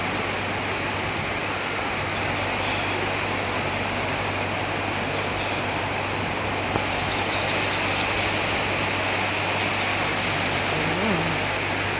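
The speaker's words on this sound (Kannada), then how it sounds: "ಮಳೆ ಮಳೆ ಮಳೆ" Rain falling at Kukke Subramanya temple town, a dense, steady wash of downpour with no letup, constant and fairly loud, a low hum running underneath.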